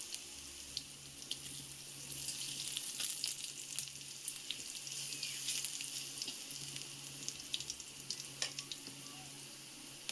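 Chili powder, spices, ginger and green chili fry in oil in a pan for Odia dal bara, making a faint watery sizzle with scattered clicks and scrapes, no voices.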